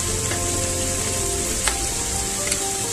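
Soy sauce sizzling in a hot pan while cooking chili chicken, a steady close frying hiss with a few faint stirring clicks and no voices.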